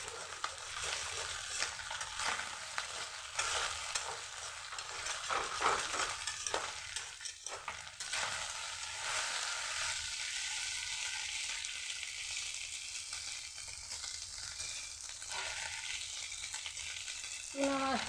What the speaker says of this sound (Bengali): চুনা মাছটা ভাজতে একটু দেরি লাগে, আস্তে আস্তে একটু বেশি তেল দিয়ে মাছটাকে ভাজতে হয়।